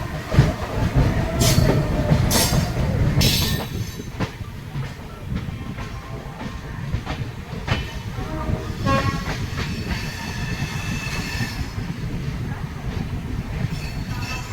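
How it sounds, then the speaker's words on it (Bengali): The Karmabhoomi Express from Kamakhya to Mumbai LTT rolls slowly into Malda Town station, a loud, continuous rumble of wheels and carriages with rhythmic clattering and a few sharp horn or brake-like bursts early on, heard from onboard. "ট্রেন ধীরে ধীরে মালদা টাউন স্টেশন এন্টার করছে"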